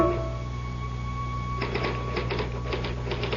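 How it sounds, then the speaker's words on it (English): Mechanical typewriter keys clatter in a quick, uneven burst of close taps in a 1974 radio mystery drama, starting partway through after a quiet stretch with steady background hum. "I typed through the night."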